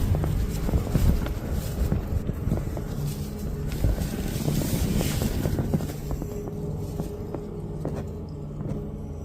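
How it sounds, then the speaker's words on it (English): Gusty wind buffets and rumbles across the microphone, with scattered knocks and rustles, easing off toward the end. "I know it's windy"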